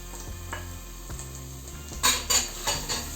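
Carrot frying in hot oil in a pan is stirred with a utensil, producing a soft sizzle with several sharp clanks and scrapes that grow louder toward the end, with no voices.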